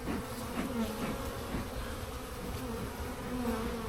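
Honeybees buzzing steadily and close during an early-March hive inspection, a dense continuous drone with no talking.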